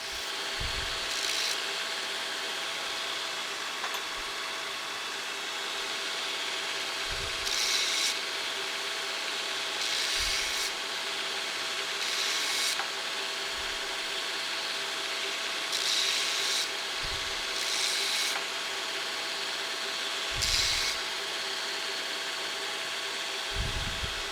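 Metal pieces are run over a wheel to make a welding ground, giving repeated rasping, grinding passes roughly every three seconds over a steady mechanical hum, close and fairly loud with no voices.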